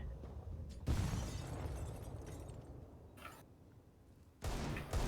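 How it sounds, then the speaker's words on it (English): Grenade thrown and exploding in a tactical shooter game, a loud burst that sounds out sharply and rumbles for several seconds before a second loud blast near the end. "Throwing grenade."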